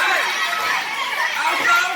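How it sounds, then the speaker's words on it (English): A wrestling crowd waiting for a match, filling the space with a dense, continuous murmur of chatter at moderate loudness and no single voice standing out. "As this crowd waits to see who's going to come out to answer the challenge"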